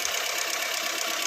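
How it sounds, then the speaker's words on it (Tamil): Maruti Suzuki Eeco van engine running at idle, a steady close mechanical clatter and hiss with an even knocking texture, no talking. "வண்டி இப்போ இன்னும் ரன்னிங்கில் தான் இருக்குது."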